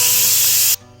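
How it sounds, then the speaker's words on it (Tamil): An Instant Pot's quick pressure release vents steam from a mutton curry. It makes a loud, steady, close hiss that cuts off abruptly, leaving near silence. "இப்போ வந்து நம்ம குயிக் ரிலீஸை வந்து பண்ணிடலாம்."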